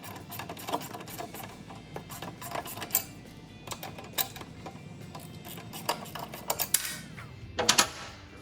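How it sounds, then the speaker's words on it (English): A 13mm swivel head socket works a motorcycle exhaust mounting bolt loose on an Indian Chieftain Dark Horse, giving close, irregular metallic clicks and creaks over a low background rumble. "I do have this little specialty swivel head socket. This is a 13mm."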